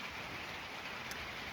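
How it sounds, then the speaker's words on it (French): Rain falls outside as a steady, even hiss with no distinct drops or pauses, constant and moderately loud throughout, with no voices. "Vous l'entendez, hein? La pluie, j'espère."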